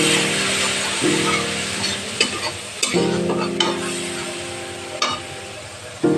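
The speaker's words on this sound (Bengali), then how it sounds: "সামান্য গরম জল দিয়ে দেবো, কোন গরম জল মশলাটা ভাজতে সুবিধা হবে" Spices fry in a pan while hot water is added, giving a steady close sizzle with repeated scraping stirs and a few sharp clatters, no talk over it.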